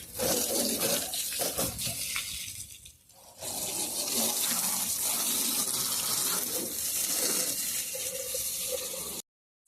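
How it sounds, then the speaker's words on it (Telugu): A forceful spray of water hisses continuously as a car is washed at home, breaking off briefly and then resuming at full strength before cutting out abruptly. "సో వాటర్ అయితే క్లీన్గా కొట్టేసాం కదా"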